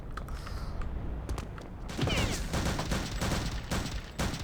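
Rapid bursts of gunfire in the video game Return to Castle Wolfenstein, from a mounted gun turned on an enemy patrol, crackling steadily and loudly through the whole stretch with no talk.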